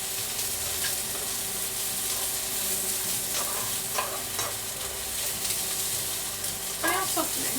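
Onions sizzle steadily in a hot pan, with occasional scraping stirs breaking through the constant frying hiss.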